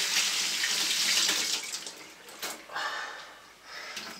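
Hands rinsed under a running tap at home, a steady bright rush of water for the first second and a half, then breaking into irregular splashes as the hands move through the stream; no talking over it.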